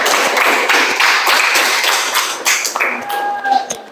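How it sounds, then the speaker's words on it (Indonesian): Applause for a student group in a classroom: a dense, steady patter of many hands clapping for several seconds, thinning toward the end. "Beri tepuk tangan kepada kelompok"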